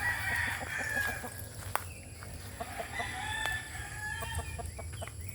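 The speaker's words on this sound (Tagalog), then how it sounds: "yung mga manok" Chickens clucking and a rooster crowing nearby on a farm in Quezon, Philippines, with farmyard bird calls layered over a steady low background hum.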